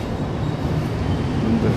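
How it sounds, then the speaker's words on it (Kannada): Electric train in Japan rumbling steadily and loudly close by, a continuous low roar with no voices. "ಹೇಗೈತೆ ನೋಡಿ ಟ್ರೈನ್ ಇದು"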